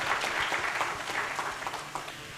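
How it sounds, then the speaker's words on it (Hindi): An audience applauds steadily at a felicitation ceremony for successful exam candidates, a dense, even wash of many hands clapping throughout with no talk over it. "सो एक ज़ोरदार तालियां हो जाएं सबके लिए।"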